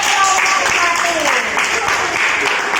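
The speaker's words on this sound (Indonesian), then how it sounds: "Tepuk tangan dulu untuk" Students in a classroom clap after a group presentation, a short burst of steady applause with voices faintly mixed in.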